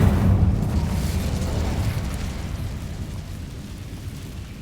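A fire spell goes off in Hogwarts Legacy with a loud, deep whooshing burst that rumbles and then slowly fades over several seconds.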